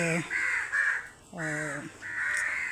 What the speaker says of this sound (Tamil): இன்றைக்கு என்னவோ தெரியல வந்து நிற்கிறாங்க காகங்கள்